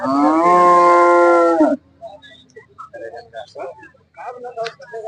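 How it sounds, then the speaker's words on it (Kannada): A cow at a busy cattle market in Nulvi, Karnataka gives one long, loud, close moo lasting under two seconds, followed by quieter background chatter and market voices. "ಇದೊಂದು ಹಸು ಇದೆ"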